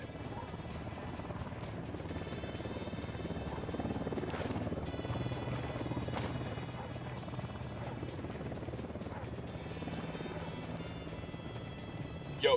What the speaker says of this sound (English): We got a chopper coming.